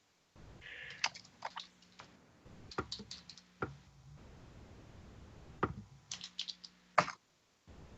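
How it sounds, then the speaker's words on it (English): Fingers typing on a computer keyboard in short irregular bursts of quiet clicks and key taps, with brief pauses between runs, close and soft, no talk. "I know you're typing"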